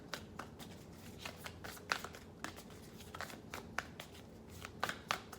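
Tarot cards shuffled by hand close by, a quiet run of soft riffling slaps and papery flicks in an uneven rhythm.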